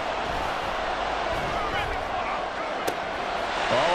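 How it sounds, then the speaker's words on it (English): A packed stadium crowd at a football game roars in a loud, sustained wall of cheering on third and long, with one sharp crack rising briefly out of the din. "This crowd turning up the decibel level."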